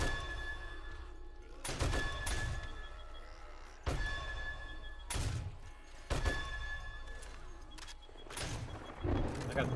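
Gunshots from the player's gun in the zombie survival game 7 Days to Die: sharp, punchy reports in irregular pairs spread across ten seconds, with someone talking between and over them.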